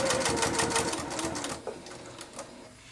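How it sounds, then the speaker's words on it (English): Sewing machine stitching a fabric casing with elastic inside for a scrub cap, a rapid mechanical chatter that runs quickly and then slows and stops. "Now I turn the fabric and I'm going to sew to the end."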